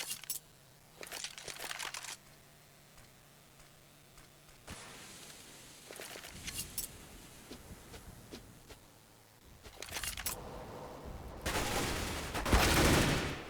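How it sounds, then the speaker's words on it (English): Gunfire in a Counter-Strike match on the de_cobblestone map, with scattered bursts of shots and clatter at moderate loudness, the heaviest volleys coming late. "Now Tizian with the first frag."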